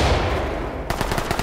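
Gunfire in the tactical shooter Ready or Not: a loud wash of sustained shooting, then a rapid automatic burst of closely spaced shots, all close and intense with no talking.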